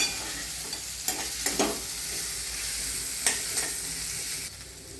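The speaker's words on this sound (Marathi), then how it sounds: "आता हे छान परतलं गेलेलं आहे, त्यात उकडलेला बटाटा घालून घेते सगळं" Boiled potato being stirred into a sautéed mixture in a pan over low heat, with a steady soft sizzle and a few scraping stirs of the spoon against the pan, close and alone.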